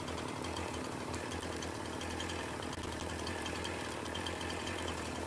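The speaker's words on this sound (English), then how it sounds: "Let's get the chainsaw." An old chainsaw idles in Farming Simulator 19, a steady, loud, even engine drone with a low throbbing hum that runs unbroken throughout.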